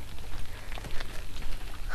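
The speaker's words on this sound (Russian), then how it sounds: "моросит мелкий дождичек, совсем мелкий" Light drizzle falls steadily in a town in Luhansk on a mild autumn day, a soft continuous patter of fine raindrops on surfaces, fairly close and even throughout with no voices.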